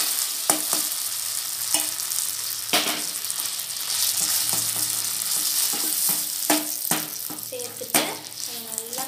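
A spoon stirs roasted cashews and raisins into millet coconut-milk payasam, with a steady close hiss of cooking and repeated sharp clicks and scrapes against the pan.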